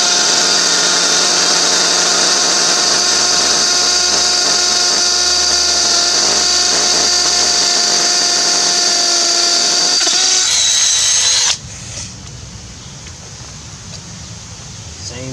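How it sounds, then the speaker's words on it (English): A Milwaukee M12 cordless hammer drill whines loudly and steadily for about ten seconds, then stops abruptly, leaving a quieter hum of background noise. "Now the hammer drill from Milwaukee."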